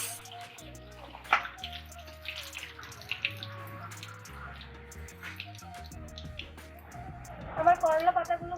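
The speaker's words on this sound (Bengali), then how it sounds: "এই পাতাগুলো এখন ধুয়ে কেটে নিব।" Bitter gourd leaves being rinsed in water for a home-style village dish, with steady splashing and dripping that swells near the end, under a voice and other background sound.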